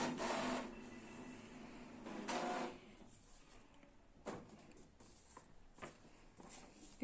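Quiet printer printing a page: a few whirring mechanical bursts early on, then softer clicks and rubbing feed noises, close by and without talk.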